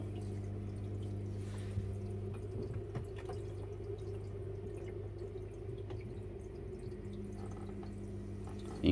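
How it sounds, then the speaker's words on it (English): A Red Devil RDC 250 protein skimmer runs in an aquarium setup, giving a steady low pump hum with faint, soft bubbling and trickling water throughout, quiet and continuous. "you can start to see the bubbles now rising up into the skimmer neck"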